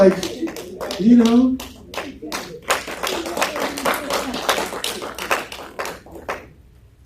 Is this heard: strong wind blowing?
no